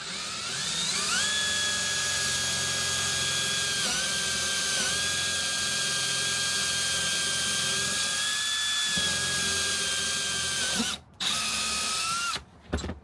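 A Milwaukee M12 FUEL 2505-22 installation drill whines loud and continuous up close for over ten seconds, its pitch dipping slightly under load a few times before it stops and restarts briefly at the end.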